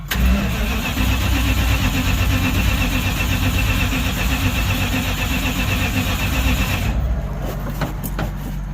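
A Dodge Sweptline pickup truck with a Holley carburetor, started after sitting a while, runs loud and close as a steady rumbling idle, then drops off with a few clicks near the end.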